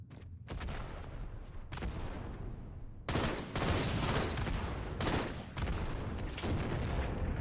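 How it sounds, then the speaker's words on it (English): Grenades explode in a Halo video game: heavy booming blasts in a rapid, dense cluster with loud noisy bursts and short gaps, near and forceful. "These are grenades."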